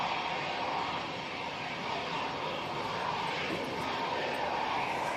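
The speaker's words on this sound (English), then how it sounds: "Next in will be the EasyJet from Belfast." An easyJet Airbus A319 comes in to land at Manchester Airport from Belfast on a windy day. A steady, fairly faint engine rumble holds throughout with no voices.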